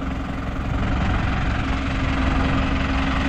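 A TD110 tractor engine idling, a loud, steady, low diesel rumble with a constant hum, close by and alone with no talking.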